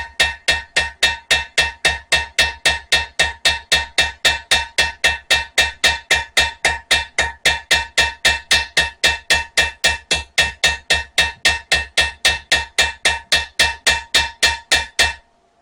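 A ball peen hammer striking a blacksmith's knife: about fifty evenly spaced, ringing metallic taps in quick steady rhythm, close and loud, stopping abruptly at the end.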